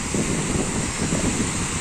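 Wind and sea waves sound on a summer evening walk along the shore, a steady rushing roar of surf with gusts buffeting the microphone, continuous and fairly loud.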